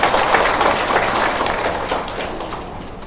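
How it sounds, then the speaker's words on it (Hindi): Audience applause at a church sermon, a dense, steady wash of clapping that fills the room and slowly tapers toward the end. "एक बार तालियां बजा दे।"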